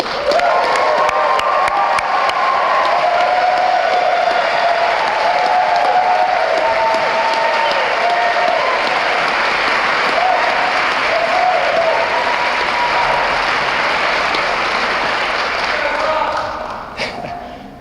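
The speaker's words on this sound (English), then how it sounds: "So you can't fake the applause, right?" Sustained audience applause at a Green New Deal town hall forum in New York, greeting climate strike students as they stand, with cheering voices mixed in; steady and full for about sixteen seconds before tapering abruptly.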